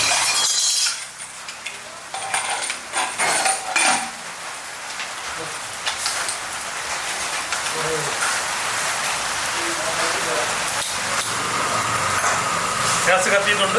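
Rain falling outside a kitchen, a steady hiss that grows denser and louder through the clip, with some clattering near the start and talking over it.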